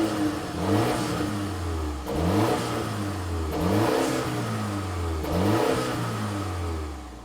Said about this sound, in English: Okay, here we are driving the new Mini Countryman.